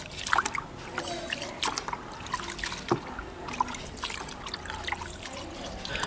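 Water sloshes and trickles as grains are washed by hand for sathu mavu, a homemade health flour, with steady close splashing and occasional louder splashes and clinks of the vessel.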